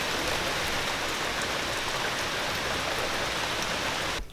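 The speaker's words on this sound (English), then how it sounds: "Yeah, so it's raining now. Huge drops." Heavy rain with huge drops pours steadily onto a wooden deck, a dense, constant close hiss of drops with no other sound.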